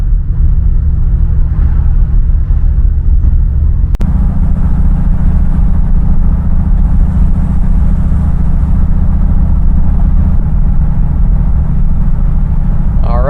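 A Chevrolet Bel Air on a test drive after brake repair, a loud steady low engine and road rumble heard from inside the car, with one sharp click near the start.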